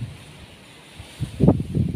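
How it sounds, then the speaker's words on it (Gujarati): Gusty wind raising dust under dark clouds buffets the microphone in low rumbling bursts, quiet for the first second and then growing louder and rougher. "બહુ જ પવન છે ને આમ ધૂળની ડમરી ઉડે છે"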